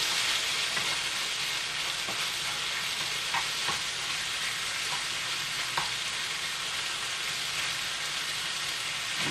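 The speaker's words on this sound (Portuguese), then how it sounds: "Enquanto o bacon na loura, ele tem tempo de cozer." Bacon frying in a pan makes a dense, steady hiss of sizzling fat with occasional small pops, continuous and close, with no talking.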